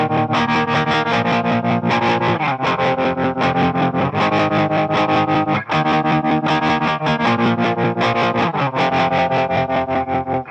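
Electric guitar played through an Electro-Harmonix Nano Pulsar stereo tremolo pedal at maximum depth, each chord chopped into rapid, even pulses that drop almost to silence between beats, loud and steady throughout.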